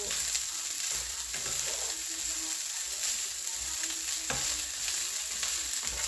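Chicken fried rice fries in a pan with a constant loud sizzle, and occasional scraping stirs sound up close without any voice.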